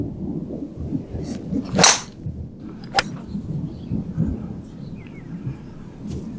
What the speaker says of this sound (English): Just before I hit that drive, we got a crack of thunder.